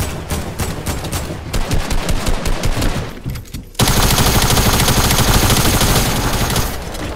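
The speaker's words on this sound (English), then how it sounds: "Oh, I'm getting shot." Rapid gunfire rattles in Fortnite, with dense bursts of shots throughout and a sudden louder, sustained volley in the second half, loud and close.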